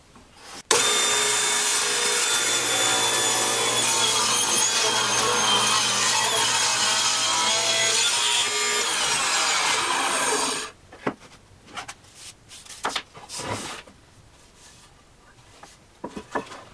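A table saw with a brand new blade rips a wooden leg blank on a taper jig, giving a loud, continuous, close cutting roar for about ten seconds that stops abruptly, followed by scattered knocks and handling clatter.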